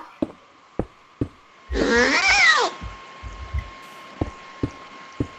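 A single cat meow from the video game Minecraft rises and falls for about a second, loud and clear, set among sparse sharp clicks and taps before and after.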